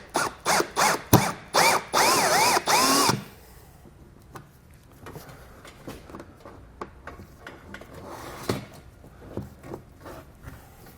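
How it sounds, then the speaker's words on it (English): Step drill bit cutting a wiring hole in a 2020 Jeep, a loud, close series of rapid whirring bursts for about three seconds, followed by quieter clicks and handling noises. "So I'm going to use a step drill bit now and drill out that hole so we can feed our wires through."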